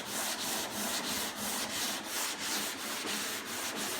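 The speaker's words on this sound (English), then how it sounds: "I'll grab a block and start sanding, and you will see all of that orange peel that you cannot see before" Hand sanding block scuffing the painted body of a 1963 Chevy Nova, a steady rhythmic back-and-forth rasp with regular strokes about every half second, close and continuous with no talking.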